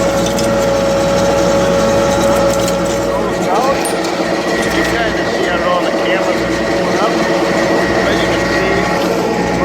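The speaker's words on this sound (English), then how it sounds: "This is funny, this poor little tractor." Small farm tractor engine droning steadily while pulling a cover crop spreader in a field, a loud, close, continuous mechanical rumble with a constant tonal whine throughout.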